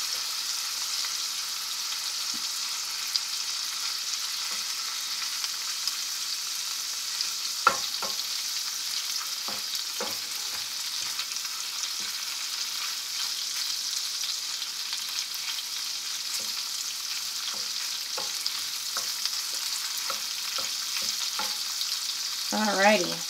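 Garlic shrimp frying in butter in a pan, a steady soft sizzle throughout with occasional light clicks and taps from stirring or flipping, heard up close with no talking.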